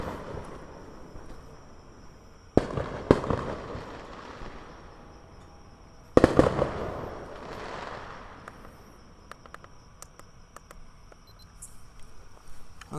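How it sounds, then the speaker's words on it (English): Fireworks go off outside at night, with two clusters of sharp bangs and crackles followed by fading rumbles, heard at a distance amid quiet background noise and no speech. "I don't know how well you guys can hear me over the fireworks."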